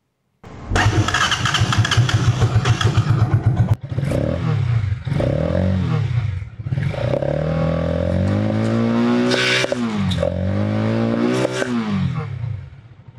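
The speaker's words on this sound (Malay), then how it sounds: "Korang nak dengar bunyi motor ni ke tak?" A Keeway K-Light 202 motorcycle at a motorcycle shop starts up and runs loud and close, its engine idling and then revving in several rising bursts before settling.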